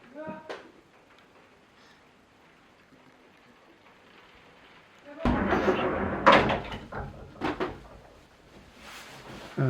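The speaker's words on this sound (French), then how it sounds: "on t'entend grincer aussi quand tu marches" After a quiet stretch, a burst of creaks and soft knocks arrives as someone standing shifts their weight on a creaky surface during an indoor film shoot, with several sharp creaks clustered close by.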